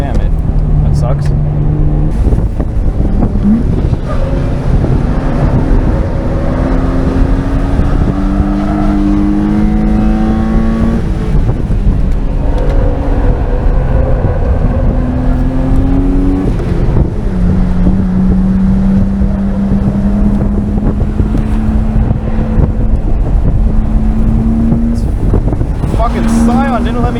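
Inline-six engine of a bagged BMW E34 with an S52 swap pulling through gears on a lap at Willow Springs raceway, rising and falling pitch as it shifts, heard from inside the cabin under steady wind roar with people talking.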